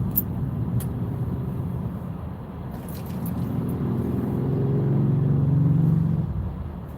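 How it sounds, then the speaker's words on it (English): Car traffic moving through city streets at night, a steady low engine rumble and road noise that swells gradually as a vehicle draws closer, with no talking. "you can see there's a lot of cars around here."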